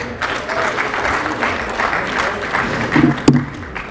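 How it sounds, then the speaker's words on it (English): Steady crowd applause fills the clip, with a few louder claps and a brief murmur of voices near the end. "Round of applause for Rabbi Kigel."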